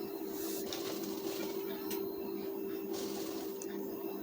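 A sewing machine stitches piping onto a size 36 blouse, running as a steady, even mechanical whir with a fixed hum underneath, faint and continuous.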